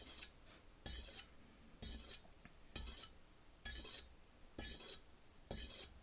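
A Wusthof chef knife edge is run along a brick in six separate, evenly spaced scraping strokes, each a sharp gritty swipe with quiet pauses between, close and fairly faint.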